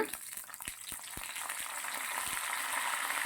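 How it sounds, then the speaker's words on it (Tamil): Curry leaves sizzle in hot oil with tempered dals, making a steady, close crackling fry that grows slightly denser, with a few soft pops and clicks scattered through it. "இப்போது இதெல்லாம் நல்லா வந்து பொரிஞ்சதுக்கப்புறம் கருவேப்பிலை போடுறேங்க"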